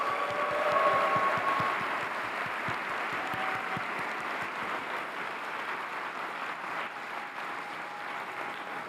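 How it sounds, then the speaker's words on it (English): A conference crowd at OpenAI DevDay applauds, sharp distinct claps at the start settling into a softer, sustained patter that fades slightly toward the end, heard at moderate distance. "Let's give them a round of applause."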